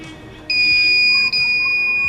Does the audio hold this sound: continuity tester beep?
yes